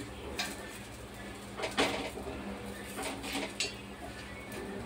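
A spoon lightly clinks and scrapes against an oiled aape pan while the rice and urad dal dumplings are flipped, with a few faint, brief metallic taps over a quiet background.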